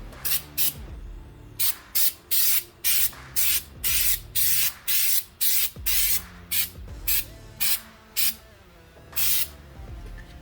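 Rust converter sprayed from an aerosol can onto a Volkswagen TDI-swapped Jeep LJ comes as a series of short, loud hissing bursts in an uneven rhythm, close by, with brief gaps between each spray.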